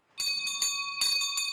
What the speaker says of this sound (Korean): 사제의 종소리와 함께 의식이 시작됩니다.